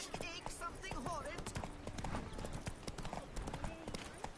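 Horse hooves clip-clopping at a brisk gait in The Witcher III, close and rhythmic, with clinks of tack and a brief neigh mixed in.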